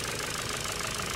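A Ford Focus mk3 1.6 petrol engine idles with a rough, diesel-like clatter and fast ticking from the valve lifters, steady and close throughout with no talk.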